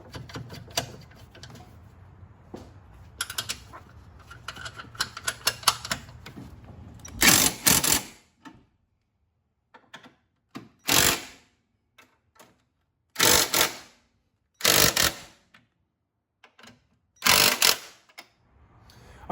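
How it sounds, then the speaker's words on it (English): Impact wrench tightening strut nuts with a 14mm socket during a lowering spring install on a Fiat 124 Spider Abarth, close and loud, in several short, sharp rattling bursts separated by silence, after some quieter handling noises. "And then we'll finish off using the impact with a 14mm socket."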